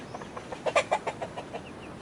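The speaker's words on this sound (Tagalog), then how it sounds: "tingnan natin ulit yung ating mga sisiw na bago, kung kamusta sila dito sa loob" Newly hatched chicks inside an incubator make a rhythmic run of high, clear peeps, close and distinct over a faint background hiss, with no one speaking.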